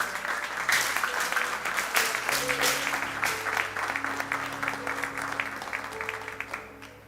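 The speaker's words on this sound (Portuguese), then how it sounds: "Será que você pode aplaudir Ele mais uma vez?" Church congregation at an evening service applauds loudly and continuously for several seconds, dense clapping with sustained tones from instruments or a keyboard underneath, fading toward the end.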